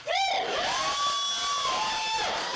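Loud, distorted crowd screaming and whooping at a rap battle, a sustained shrill yell that rises and falls over a harsh, clipped microphone feed, with no clear speech.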